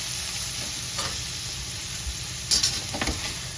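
Cowpea bhaji being stirred in a pan with salt and garlic, a steady low sizzle with a few soft scraping strokes of the spoon toward the end, fairly quiet and without any voices.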